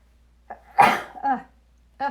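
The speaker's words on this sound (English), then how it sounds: "excuse me, I'm gonna sneeze" A single abrupt sneeze burst with a short breathy lead-in, followed by brief vocal sounds; close and fairly loud.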